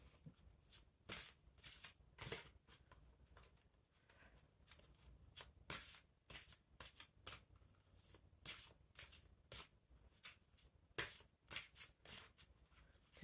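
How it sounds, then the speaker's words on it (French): Playing cards are shuffled and handled up close, giving a rapid series of crisp riffles, flicks and slaps in irregular bursts throughout, fairly quiet overall. "je tripote mes cartes et je ne sais jamais s'il y a quelque chose qui va sortir"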